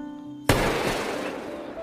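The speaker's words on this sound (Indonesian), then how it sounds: "tiba-tiba saat itu Ben melepaskan tembakan yang membuat Yoshi ngegebek geruas" A single sharp gunshot sound effect cracks out suddenly after a quiet tonal hum, followed by a long noisy ringing tail that fades slowly, loud and close.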